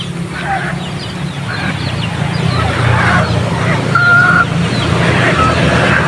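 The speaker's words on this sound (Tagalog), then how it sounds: "Ayun naman po mga Rhode Island tsaka yung mga pabo" Scattered clucks and brief calls from Rhode Island Red chickens and turkeys in a noisy outdoor yard, with a steady background rumble.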